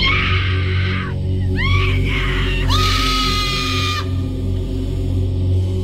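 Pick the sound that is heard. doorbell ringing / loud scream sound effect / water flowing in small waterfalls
loud scream sound effect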